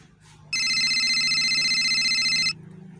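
A telephone rings loudly with one continuous two-second electronic trill, beginning and ending abruptly, with faint indoor murmur before and after.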